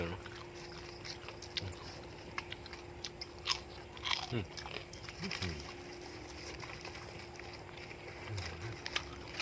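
Crispy deep-fried pork intestine being bitten and chewed, giving a few crunchy bites and soft mastication sounds, close and fairly quiet over a steady background hum.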